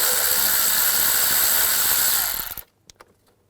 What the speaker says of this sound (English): I'm going to remove this engine cover,